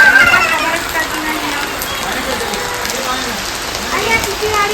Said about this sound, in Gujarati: ફૂલ વરસાદ ચાલુ થઈ ગયો પાછો